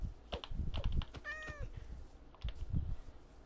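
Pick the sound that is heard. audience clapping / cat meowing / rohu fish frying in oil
cat meowing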